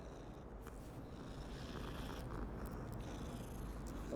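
Filch's cat in Hogwarts Legacy purring softly and steadily, a low continuous rumbling purr heard faintly close by with no other prominent sounds.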